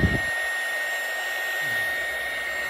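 An electric hot air blower heat gun, 220V 300W, runs steadily with a continuous airy whoosh and a steady motor whine, close by and alone after a brief thump at the start.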